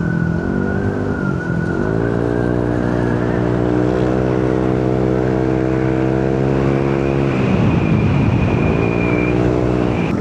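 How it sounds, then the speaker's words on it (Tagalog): A Yamaha Aerox V3 scooter engine revs hard in sport mode, its harmonic whine climbing and holding steady over several seconds, then dropping and rising again in a second pull. It is loud and close, with no talk over it. "Mamaya paparinig ko sa inyo pag nag-pull tayo ng isa. Yung sport mode niya, kung ano magiging tunog."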